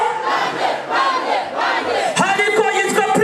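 A stadium crowd at a Riderman show roars and chants loudly and continuously, with cheering swells and shouts layered throughout.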